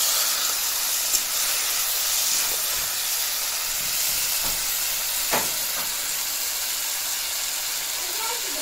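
Water poured into a hot pan of potatoes and okra sets off a continuous loud steaming hiss and sizzle, with a few faint clinks over the steady rush.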